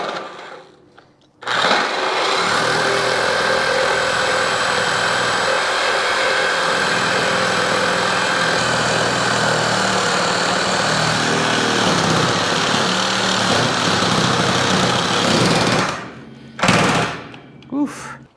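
Steel truck frame flanges on a Chevy COE being cut, a loud continuous rasping, buzzing tool roar sustained for about fourteen seconds, then a pause and a couple of short bursts at the end.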